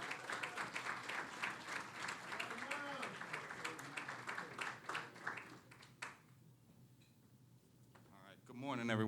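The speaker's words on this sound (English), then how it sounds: "Clap your hands for Miles Franklin as he comes." Audience applause at a community partnership breakfast, steady broadband clapping from a crowd for about six seconds with voices talking over it, fading out before a speaker begins.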